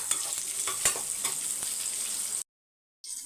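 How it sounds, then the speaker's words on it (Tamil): Vegetables, including brinjal, sizzle and crackle steadily in a hot pan with occasional stirring clicks, then the sound cuts out briefly before resuming. "ஒரு அஞ்சு நிமிஷம் அப்படியே வதங்கட்டும்"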